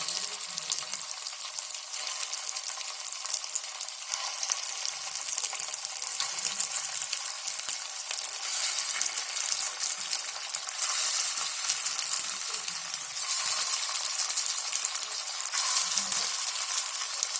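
Batter of potato and flattened rice (batata pohe) frying in an appe pan on a gas stove, a continuous close sizzle with crackling hiss throughout and no voices.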